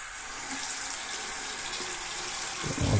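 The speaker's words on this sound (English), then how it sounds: "I'm going to run some water here." A sink tap runs steadily, water splashing continuously into the basin at close range, with a louder splash near the end as something moves under the stream.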